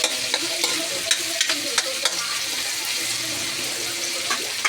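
Food sautéing in a pan before tilapia is cooked, with a spoon stirring through a constant close sizzle, sharp scrapes and taps recurring every half second or so, no talking.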